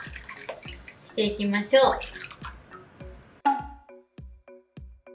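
Warm water is splashed repeatedly onto a face during rinsing after washing, with a run of close wet splashes followed by evenly spaced drips, while a person talks over them.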